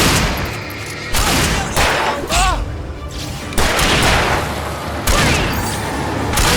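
Gunfire rings out in the video game Alan Wake Remastered during a fight through a power plant: several loud, sharp bursts of shots at irregular intervals, with reverberant tails and a few thuds between them.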